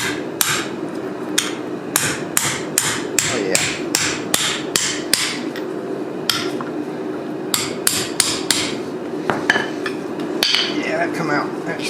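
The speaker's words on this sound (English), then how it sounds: "we're going to try to hit these out with a socket first before I try to press them out" A worn rack and pinion bushing on a Toyota Hilux Surf is driven out with an old 15 mm socket, struck by a steady series of sharp, loud metallic hammer blows with short irregular gaps, close up.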